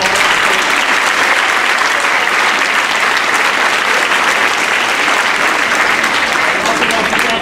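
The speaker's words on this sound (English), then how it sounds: "So big round of applause." Loud, sustained applause from a crowd at a middle school winter concert, dense clapping that holds steady throughout without pause.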